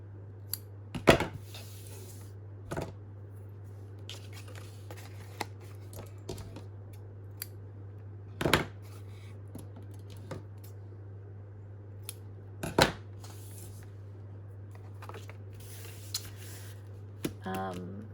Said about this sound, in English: I'll just trim off the longer bits.